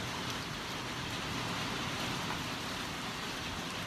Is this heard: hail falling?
yes